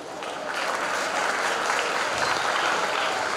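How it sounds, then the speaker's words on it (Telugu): An audience stands and claps to welcome a guru at an academy event, dense, even applause filling the whole moment at close range. "అందరూ ఒకసారి లేచి నిల్చొని చప్పట్లు కొట్టి గురువు గారికి స్వాగతం చెప్పండి"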